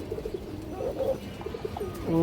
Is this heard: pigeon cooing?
yes